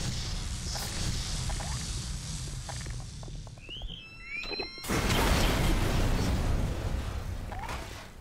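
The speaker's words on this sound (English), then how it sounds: "What was that explosion?" A loud burst erupts in the Half-Life remake Black Mesa, a sudden broadband blast followed by sustained rumbling noise, with chirpy game ambience and small effects before it.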